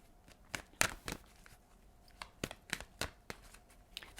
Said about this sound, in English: I'm going to shuffle though, Capricorn, and I'm going to pull two cards.